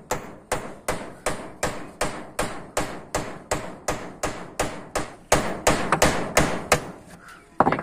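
A hammer strikes steadily into a wall while making a hole to mount a satellite dish, about twenty loud, close, evenly spaced blows that ring briefly, then a quicker run of hits near the end. No talking.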